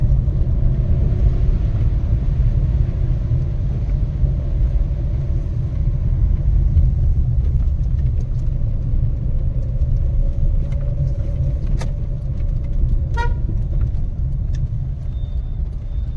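Road traffic at the Kondotty bypass junction, with buses coming through, makes a steady, loud engine rumble that carries on without pause, with faint clicks and a brief tonal honk near the end.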